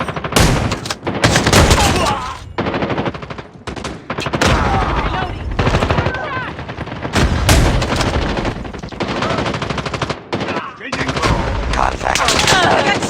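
Rapid automatic gunfire in a first-person video game shooter, loud, dense bursts of shots repeating across the whole stretch with brief pauses between volleys.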